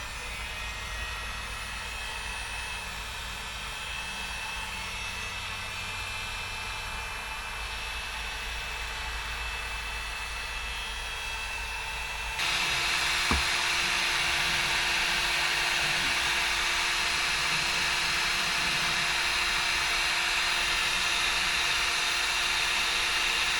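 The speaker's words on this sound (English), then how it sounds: "take a heat gun around here, warm it up, pop that cap off" Heat gun blowing on a Jeep TJ shifter knob, a steady loud rushing hum of hot air that steps up in intensity partway through and then holds constant, close by with no talk.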